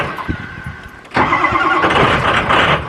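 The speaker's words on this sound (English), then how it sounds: "Start the car." A car engine cranks briefly and then catches, settling into a loud, steady running roar close by, with no talking.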